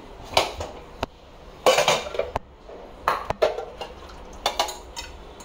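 A metal spoon clatters against a pressure cooker pot as cooked chickpeas for chole are scooped out, giving several sharp clanks and scrapes in irregular bursts, fairly close, with no talking.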